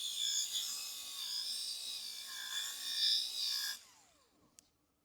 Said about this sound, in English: So the minute I'm angling onto this forward edge here, so I can see exactly where the cutting pad is going.